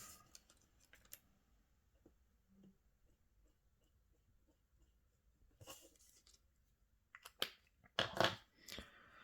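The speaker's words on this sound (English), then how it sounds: "We're going to fold this here, will meet onto this end of the crease we just made" Paper is folded and creased for an origami kusudama with faint, soft crinkles and light taps, close and quiet, ending in a louder cluster of rustling and crisp creasing.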